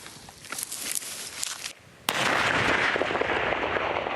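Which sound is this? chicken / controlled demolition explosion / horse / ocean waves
controlled demolition explosion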